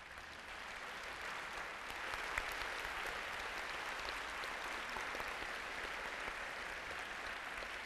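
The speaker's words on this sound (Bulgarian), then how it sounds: "Моля аплодисментите за нея." A concert audience at a Bulgarian film festival applauds after a song, dense sustained clapping from a full hall that holds steady throughout.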